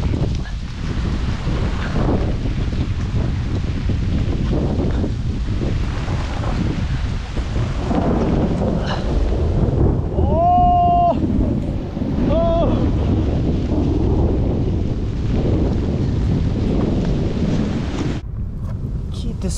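An island thunderstorm with strong wind buffeting the microphone and a continuous rumbling roar, with a few brief tonal squeaks midway and a sudden drop near the end.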